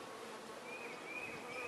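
Honeybees drone steadily inside an open top bar hive during an inspection, a dense continuous buzz heard close up with no voices.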